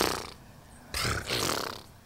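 A human voice mimics a tiger's friendly chuff with a throaty raspberry sound. A faint breath is followed by two loud, rough, puffing bursts, close to the listener.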